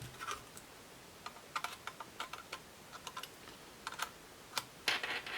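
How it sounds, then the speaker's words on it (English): Typing on a USB computer keyboard hooked to an HP Pavilion dv6 laptop being taken apart, a quiet, irregular run of light key clicks in small bursts, ending in a quick cluster of presses. "I need a USB keyboard."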